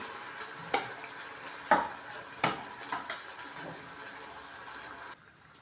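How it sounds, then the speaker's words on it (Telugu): Half a kilo of mutton dropped into a hot pan of fried ginger for a mutton curry, with several loud wet sizzling thuds and clatters as pieces land, then steady frying that cuts off abruptly. "ఇప్పుడు మటన్ యాడ్ చేస్తున్నాను. ఇది 1/2 kg మటన్ ఉంటుందండి."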